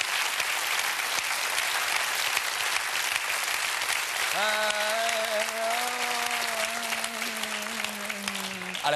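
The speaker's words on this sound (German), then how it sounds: "Alle haben geklatscht" Dense, steady applause from a television studio audience at a German late-night talk show, filling the whole stretch; partway through, a sustained musical tone from the band rises beneath the clapping and holds to the end.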